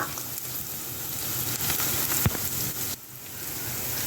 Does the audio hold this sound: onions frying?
yes